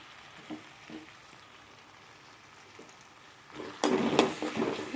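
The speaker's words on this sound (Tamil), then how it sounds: "இப்போ நம்ம கட் பண்ணி வச்சுருக்க தக்காளியை சேர்த்துக்குவோம்." Chopped tomatoes go into a pan of sautéed onions for a tomato kuruma, first with quiet faint sizzling and a few soft clicks, then a burst of loud, close frying as they hit the oil.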